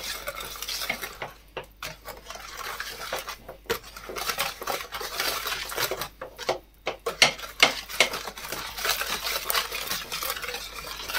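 A spoon scrapes steadily around a bowl of chocolate pudding batter made with butter, cocoa powder and eggs, stirred in a figure-of-eight. The close, rhythmic swishing and clinking continues throughout with brief pauses, and no voices are heard.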